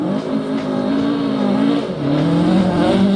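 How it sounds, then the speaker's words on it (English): A Ford Escort Mark II gravel hillclimb rally car with a 2.5-litre normally aspirated Millington engine and side-draft Weber induction howls at wide open throttle, loud and close, its pitch rising, dipping at a gear change, then climbing again. "There's nothing like the wide open throttle sound of a Mark I or Mark II Escort."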